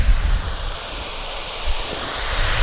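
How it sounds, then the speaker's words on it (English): Water runs inside a garden device, giving a steady, close rushing hiss with faint low thumps and rumble, alone without any talk. "You can hear that there's water flowing inside of this."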